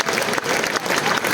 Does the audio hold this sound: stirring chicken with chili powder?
no